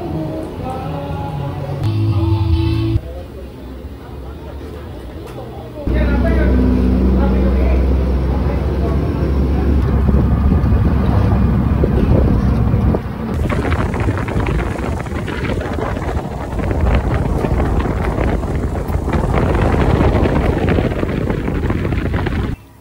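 A motorized tricycle rides along with its engine droning steadily and heavy wind buffeting the microphone, a loud, continuous rumble with shifting intensity and a brief voice in the mix.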